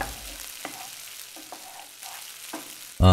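Ground onions sautéing in a pan for Tamil-style varutha kozhi kari kuzhambu, a soft continuous sizzle broken by occasional stirring scrapes, closing with a sudden louder clatter.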